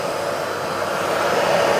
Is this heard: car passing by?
no